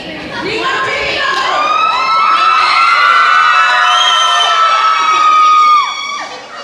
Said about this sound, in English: count of three, y'all need to scream.